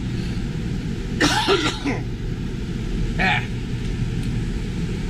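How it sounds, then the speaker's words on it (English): Two short coughs, one early and a softer one later, over a steady low engine rumble from a 2007 Gulfstream Conquest Super C motorhome with an 8.1-liter gas V8. "Still got a residual cough from all this crap."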